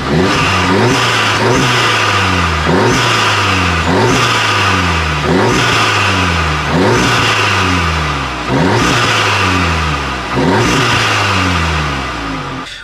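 A modified Audi's engine revs repeatedly from outside the car, loud rising and falling vroom bursts roughly every two seconds with a strong low rumble and audible intake whoosh.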